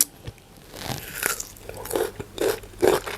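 Bites and chewing of fresh plums dipped in chili salt, with crisp close-up crunches and wet mastication in an irregular rhythm, interspersed with soft mouth sounds and brief murmurs.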